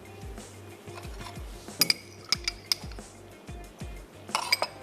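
A spoon scraping and clinking against a bowl while olive oil and olives are stirred together: steady low swishing with scattered bright metallic clinks, close and moderately loud.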